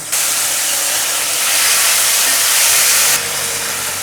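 Shiitake mushroom soaking water hits a hot stir-fry pan with soy sauce and mushrooms, giving a loud, steady, hissing sizzle that rises briefly and then eases off.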